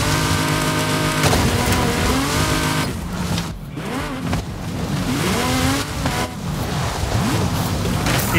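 An Audi in the Forza Horizon 5 racing game drives hard, its engine revving up and shifting through gears in loud sustained sweeps, with brief dips between pulls and no talking over it.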